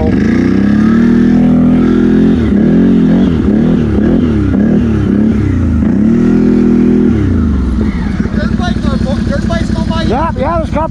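A 2019 CFMOTO CFORCE 800 Mud Edition ATV engine drives through soft sand in four-wheel drive, droning loudly and steadily with rising and falling revs, while people talk over it throughout.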